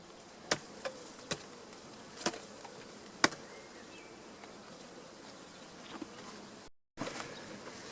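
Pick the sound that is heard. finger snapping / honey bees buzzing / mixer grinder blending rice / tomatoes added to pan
honey bees buzzing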